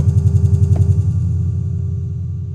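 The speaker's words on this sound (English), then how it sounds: "or we can use an echo. Let's do an echo." An echo release effect on a Pioneer DDJ-FLX10 DJ controller, with a pulsing low beat that repeats and gradually smears into a sustained, decaying wash over about two and a half seconds.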